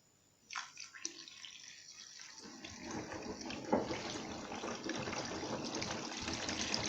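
Water gushes into a Vestel washing machine to flush leftover detergent during a cotton 60° wash, starting with a few splashes and drips before swelling into a steady, rising rush of filling water.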